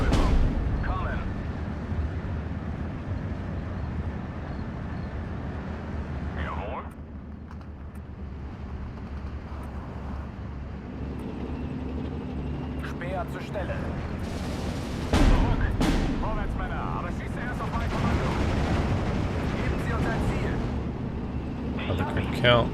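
Gunfire and explosions from battlefield combat in the WW2 real-time strategy game Steel Division 2, a steady rumble of shots and blasts with a few sharper bursts, heard with some talk over it.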